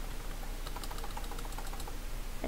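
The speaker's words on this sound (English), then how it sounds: "I'm typing while I talk" Steady rapid clatter of keys on a computer keyboard, continuous and fairly close, with no voices over it.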